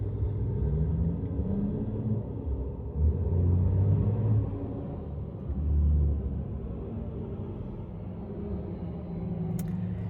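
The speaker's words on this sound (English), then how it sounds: "I just got distracted by like an 18-wheeler like cutting out in front of all this traffic" Low, heavy rumble of an 18-wheeler truck moving through traffic, a sustained engine drone that swells twice as it passes, heard from inside without talk.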